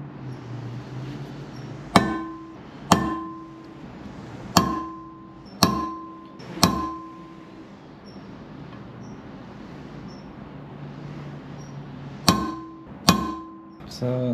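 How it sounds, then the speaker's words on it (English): Sharp metal hammer strikes punch holes in a Mazda 13B rotary engine housing from an RX7 FC before porting, with about eight distinct ringing impacts in two clusters separated by a quiet stretch. "So what I'm doing is I'm punching holes so I can drill it and then Dremel it."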